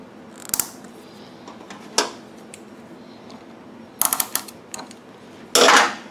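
A small metal hose clamp is fitted onto a fuel hose on a Pulsar PG4000iSR generator fuel kit, making sharp clicks and ratcheting snaps in short bursts. A longer scraping rasp comes near the end, close and alone.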